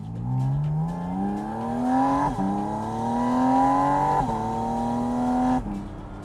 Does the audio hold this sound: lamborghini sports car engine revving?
yes